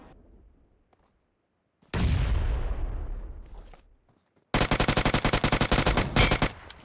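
Video game gunfire: after a faint lead-in, a single heavy boom decays over about two seconds, then a rapid automatic burst of sharp, evenly spaced shots fires loud and close.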